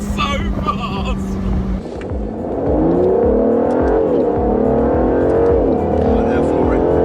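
A car accelerates hard, and the engine note climbs in pitch through the gears, loud and close, as if heard from inside the cabin. A voice speaks over it near the start.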